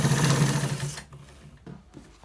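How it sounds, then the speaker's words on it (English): A sewing machine runs a fast, steady stitch for about a second while sewing lace into a white trouser, then stops, leaving a few soft clicks and handling noises. "So we are stitching it and making sure that the lace is inside"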